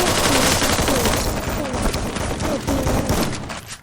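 Rapid gunfire in the mobile shooter Free Fire, dense bursts of shots rattling loud and continuous across the whole stretch, with a speaking voice faintly mixed in.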